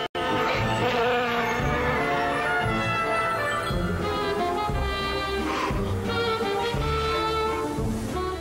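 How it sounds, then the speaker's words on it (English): A small bee buzzes loudly and continuously for about eight seconds in a TV commercial, a close, steady drone with music-like tonal layers underneath. "It's just a little bee."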